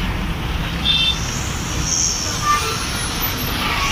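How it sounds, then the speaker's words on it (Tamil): Heavy road traffic during the Pongal festival: a steady roar of passing vehicles with engine rumble and brief high horn or brake tones, continuous and fairly close, with no clear talk. "ஃபுல் டிராஃபிக்காக இருக்குது."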